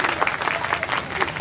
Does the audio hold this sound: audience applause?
yes